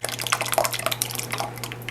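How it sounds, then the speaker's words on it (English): Buttermilk pours into a well of flour in a mixing bowl for Irish soda bread, giving a close, continuous splashing and dripping wash with small liquid plops over a low steady hum, with no talking. "I'm gonna pour in the buttermilk."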